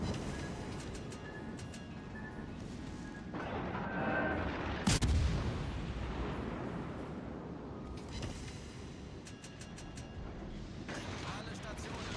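Naval guns fire in a fleet video game, with deep artillery booms and one sharp, loud blast near the middle, over a steady rumbling battle bed. A voice talks over much of it.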